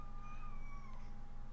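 A cat meows in a drawn-out, wavering cry close by over a steady background hum.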